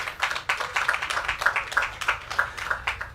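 A small crowd at an official road and roundabout commissioning ceremony claps in a loose, rhythmic way, individual hand claps audible as distinct pulses, fairly close and moderately loud.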